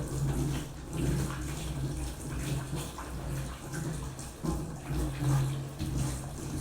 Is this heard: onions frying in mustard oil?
no